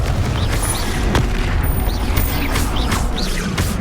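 Confringo blast spells in Hogwarts Legacy combat go off as repeated booming bursts over a dense, rumbling battle din, with sharp crackling hits and swooshing spell effects scattered throughout.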